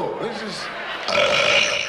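A short, low burp rumbles up close, followed by a brief spoken remark.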